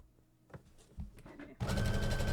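Sewing machine stitching a tote bag, a few faint clicks and thumps followed by a sudden loud steady whirring run of the motor and needle at close range.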